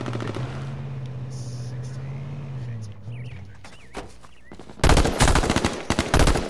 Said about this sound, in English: as soon as I start shooting